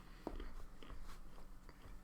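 Close crunching and chewing on peanuts, a few crisp bites followed by softer mastication, quiet and intimate with a low background hum.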